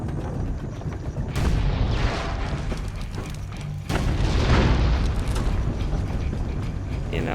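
Red barrels blowing up in Assassin's Creed Brotherhood, two heavy booming explosions a couple of seconds apart, loud and close, each followed by a rumbling roar and scattered debris against steady battle noise.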